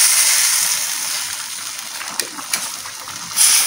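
Water pours into a cooking pan during home cooking, a steady hissing splash lasting throughout with a few brief spatters, close and fairly loud, no talking.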